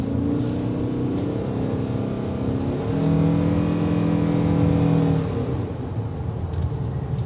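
A 2023 Ford Maverick Hybrid Lariat's engine drones and rises in pitch as the truck accelerates on a test drive, a steady, moderately loud cabin hum that climbs midway and then eases off, with no speech.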